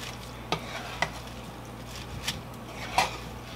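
A chicken and vegetable stir fry is tossed in a pan, with a soft sizzle underneath and four or five distinct scrapes and clinks of the utensil against the pan spaced irregularly.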